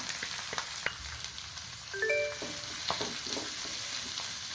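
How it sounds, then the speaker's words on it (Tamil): Onions sizzle and crackle steadily in a hot pan, a soft frying hiss with a few faint clinks and stirring sounds. "இப்போ சிம்மில் வச்சு தான் வதக்கிறேன்"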